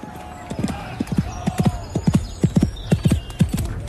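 Horse hooves clip-clopping as a radio drama effect for cavalry officers riding by, a brisk, regular run of loud, close hoofbeats with a brief whinny, under a narrator's voice.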